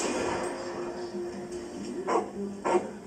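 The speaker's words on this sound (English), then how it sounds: "I can hear the dog barking just in front of me." A dog barks in a video game played through surround speakers, a few sharp barks landing in the second half and ringing out in front of the listener over a faint background hum.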